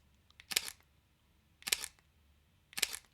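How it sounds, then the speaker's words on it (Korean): A Leica M10-P rangefinder camera fires its shutter three times at roughly one-second intervals, each a crisp, close, metallic click-and-snap in an otherwise quiet room. "제가 가지고 있는 M10P의 셔터 소리는"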